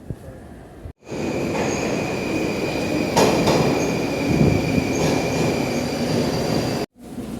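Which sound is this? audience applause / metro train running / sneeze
metro train running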